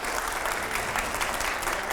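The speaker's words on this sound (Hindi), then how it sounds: "जरा जोरदार तालियां प्लीज।" Crowd applause at a Hindi political talk event with Priyanka Chaturvedi, a steady dense wash of clapping sustained loudly throughout with no talk over it.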